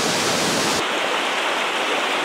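Kanangra Creek flowing near a waterfall in New South Wales, a loud, steady broadband rush of water with a sudden shift in tone partway through, no talk.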